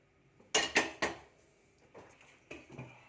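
Maggi bhel being mixed in a bowl with corn, tomato, boiled potato and paste: a quick burst of three sharp spoon clinks against the dish, then a few softer scraping taps, faint and close.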